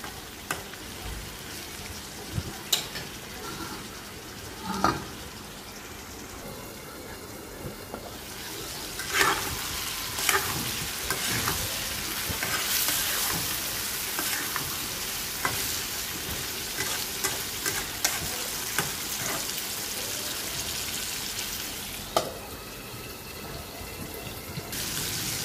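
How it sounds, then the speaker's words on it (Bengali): Pumpkin slices fry in a pan for a Bengali pumpkin bhaji, a steady soft sizzle running throughout with repeated scraping stirs and occasional clatters of the spatula against the pan, no voices. "হয়ে গেছে মিষ্টি কুমড়া ভাজিটা।"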